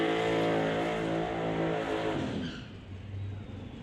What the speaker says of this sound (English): Jordan Brandon, the 2000 Chevy Camaro, the turbocharged LS power plant, up against Tyler Bodke in the Fox Body Mustang